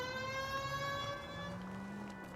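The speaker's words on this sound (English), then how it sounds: "Just turn the siren on to avoid" A police car siren in the crime video game The White Shoe Slaying playthrough: a faint, steady electronic wail holding its pitch, then dipping and fading under engine and street rumble.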